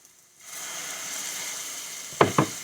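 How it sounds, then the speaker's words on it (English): Steady hiss of liquid sizzling in a hot pan as browning onions are deglazed, followed by two short scraping knocks near the end. "we're going to slowly deglaze the pan"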